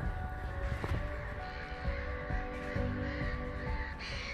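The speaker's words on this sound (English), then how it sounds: "Very noisy. Seagulls, I think." Harsh, repeated seagull calls sound close by against a noisy outdoor background at a lake near Blakemere Moss in Delamere Forest, with no talking.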